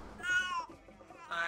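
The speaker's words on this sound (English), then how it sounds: "Kitties." Cats meowing in the co-op video game A Way Out: two drawn-out, tonal meows, the first longer and rising, the second starting just before the end, moderately close with little else around them.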